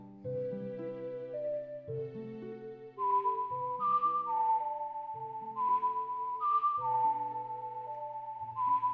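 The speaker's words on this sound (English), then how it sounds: "how are you putting echo on your whistle?" A whistled melody with a pronounced echo plays in the Ocarina of Time video game: clear sustained notes ring out over a low harmonic accompaniment, each phrase trailing off into reverberation.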